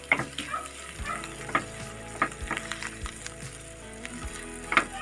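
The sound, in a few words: stirring coriander leaves into frying tinda and egg curry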